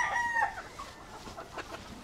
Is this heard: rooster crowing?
yes